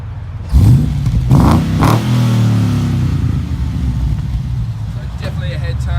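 A Holden SSV fitted with a Walkinshaw exhaust gives a loud, close rev that swoops up and back down, then settles into a deep, rumbling idle.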